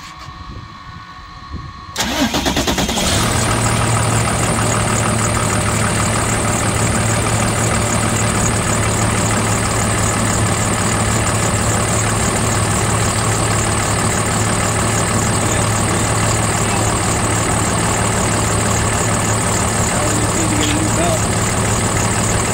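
A Ford F650 truck's Cummins diesel engine, running with a damaged drive belt, starts up after about two seconds and then idles steadily and loudly for the rest of the clip with a constant low drone.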